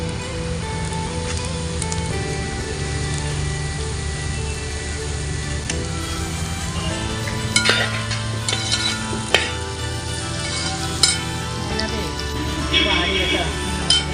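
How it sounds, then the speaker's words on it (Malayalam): Onions with a pinch of salt are sautéed in a pan, a continuous close sizzle with occasional stirring knocks, set against a steady tonal background and intermittent speech. "സവോള വഴറ്റിക്കൊണ്ടിരിക്കുവാണേ"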